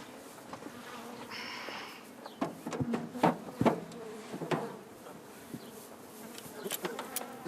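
A swarm of honey bees hums continuously around a beekeeping family, with scattered clicks and knocks of hives or equipment cutting through the buzzing.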